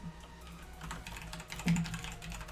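Computer keyboard typing during a World of Warcraft Nighthold mythic raid, a quick run of soft irregular key clicks close by with a slightly louder burst midway, no talking.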